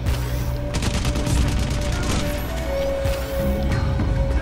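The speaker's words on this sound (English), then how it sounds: "I'm getting shot by a shotgun guy?" Shotgun fire from enemies in the video game Crysis: rapid bursts of loud, close gunshots cluster into a fusillade, with a brief pause before more shots near the end.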